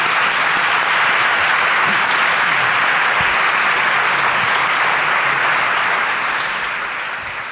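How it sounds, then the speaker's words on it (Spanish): A studio audience applauds warmly during a radio show in Málaga, a dense, loud, even clapping that holds steady for over seven seconds before easing slightly at the end. "¿Me regaláis un aplauso para David Sentinella, por favor?"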